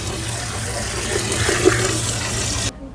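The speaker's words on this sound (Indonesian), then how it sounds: "Ini kita isi sedikit airnya buat nanti direbus." Water pours steadily into a pot being filled for boiling, a continuous close rushing stream that cuts off abruptly near the end, with no talk.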